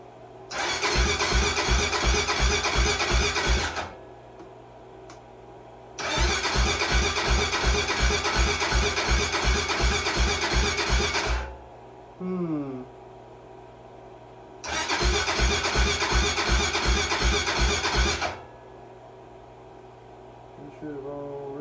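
A 2008 Honda 400EX ATV with a fixed melted piston is cranked by its starter in three long, loud, rhythmic bursts. Short pauses separate the bursts, and brief voices are heard between attempts.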